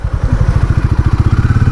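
A Hero Maverick 440 motorcycle pulls away in third gear from near standstill, its single engine thumping in a rapid, even pulse that stays loud and close, with a faint rising whine above.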